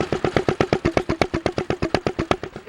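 A 1947-48 vintage McCormick engine driving a pump fires steadily with no missed beats, about eight even exhaust pulses per second, close and loud, with no voices over it.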